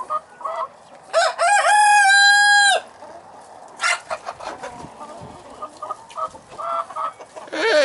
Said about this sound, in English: That's gonna be a beautiful rooster.